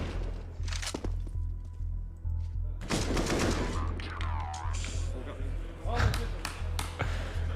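AK rifle fire from a Counter-Strike: Global Offensive pro match at a major tournament, several sharp shot bursts scattered through, mixed with a steady rhythmic low thump and heard under ongoing commentator talk.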